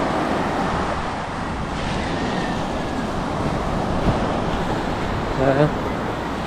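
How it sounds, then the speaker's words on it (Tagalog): Steady seaside wash of waves along the shore forms a constant broadband hiss. A faint voice rises briefly near the end. "Ganda ng dagat"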